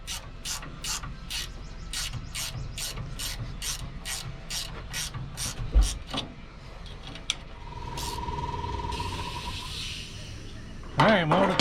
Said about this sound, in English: I end up using the wrench.